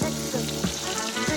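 Water splashes into a hot pan of Maharashtrian bharli vangi, stuffed eggplants in masala, and sets off a steady, close sizzle with frying crackle, under a faint voice.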